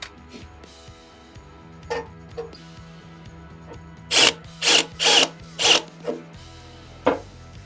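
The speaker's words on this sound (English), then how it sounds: "I'm gonna run the drill through the back" A power drill whirs in four loud, close bursts in quick succession, then one more short burst after a pause, over faint clattering, while replacing fender flares on a Jeep JK.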